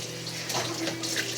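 A kitchen tap runs steadily while a child washes dishes, a loud continuous gush of water with light clinks and splashes, and no talking.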